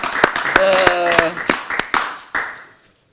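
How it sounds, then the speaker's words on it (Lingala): Scattered sharp hand claps from an audience at the Kinshasa international fair, about eight distinct claps over a few seconds, loud and close, mixed with a voice talking over them. "on peut encore applaudir"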